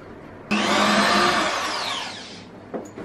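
A handheld power tool whirs during a baby nursery renovation, switching on abruptly, running steadily for about two seconds with a slowly falling pitch, then winding down, followed by a brief click.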